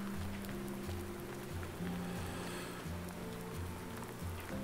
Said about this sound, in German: Ah, Regen.